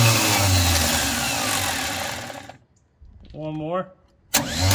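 A burnt, long-abandoned Chevy Nova's engine cranks loudly, then goes quiet before a short whirring starter spin and another burst of cranking, with people talking nearby.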